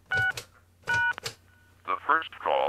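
Touch-tone DTMF keypad beeps from a regular phone dialing into an answering machine, two short bursts of dual-tone presses, followed by quick voice and tones from the line.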